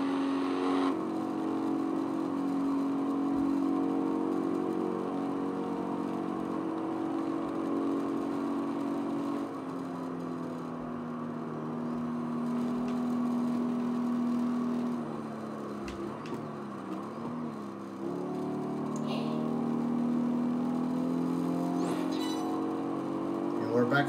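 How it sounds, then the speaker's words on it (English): A car in the Project Gotham Racing 4 video game, lapping the full Nurburgring circuit at close to 160 mph, gives a steady high engine whine that shifts pitch as it goes, with someone talking over it throughout. "I am driving close to 160 miles an hour"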